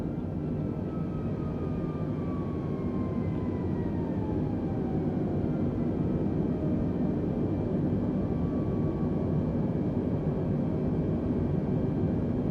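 A steady, broadband roar of Airbus airliner jet engines in a climb in Microsoft Flight Simulator, constant and droning with a faint whining tone drifting through it.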